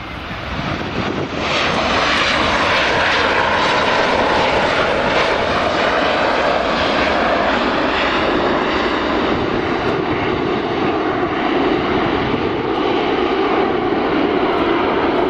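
Loud, sustained engine roar of an airplane landing on runway 24 at Edinburgh Airport, building quickly and holding steady and close throughout.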